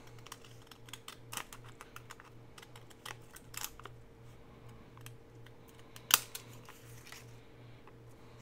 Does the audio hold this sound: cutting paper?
yes